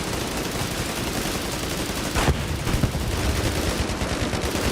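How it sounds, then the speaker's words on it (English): Gunfire in a video game, a dense, continuous rattle of rapid shots with a couple of louder bursts standing out, steady and fairly loud throughout. "What the hell is he shooting at?"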